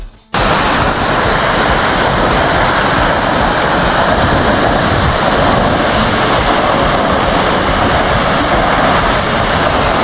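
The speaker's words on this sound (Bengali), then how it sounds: "ঝর্ণাধারা থেকে পানির ঝলকানি, পানির বিন্দুগুলো উড়ে এসে বাষ্পের মতো হয়ে চারিদিকে ছড়িয়ে পড়ছে" Madhabkunda waterfall pours in a steady, loud, broadband roar of falling water and spray, continuous and close for the whole stretch with no voices over it.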